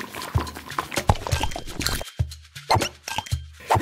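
Liquid sloshing inside a hot water bottle recorded for game sound design, a series of wet gurgling plops and squishy glugs in an irregular rhythm, close and clear, with several short bursts separated by brief pauses.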